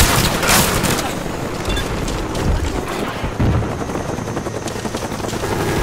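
A Cobra attack helicopter arrives in the Call of Duty Black Ops video game, its rotor churning loudly and steadily under bursts of gunfire and a few booms throughout.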